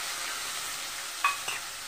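Potatoes coated in salt, black pepper and turmeric are stirred in a pan over a soft continuous sizzle, with two brief scraping knocks near the end.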